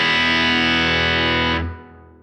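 An electric guitar played through a Fender amp with an effects scene engaged, a thick distorted sustained chord ringing loudly, then cut off sharply and decaying into a faint tail.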